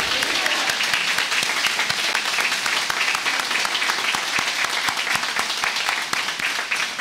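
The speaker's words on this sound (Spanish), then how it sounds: "Vamos a darle un fuerte aplauso a la Virgen" A crowd at a Spanish-language Mass at the Chapel of the Apparitions in Fátima applauds steadily, dense clapping from many hands that holds at an even, lively level throughout.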